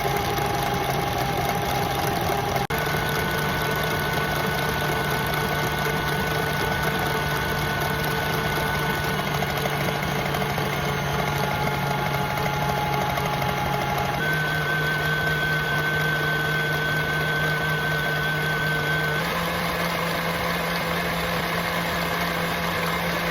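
A stand mixer churns cream into butter, a steady mechanical whir that runs alone and unbroken, shifting pitch a few times as the load thickens.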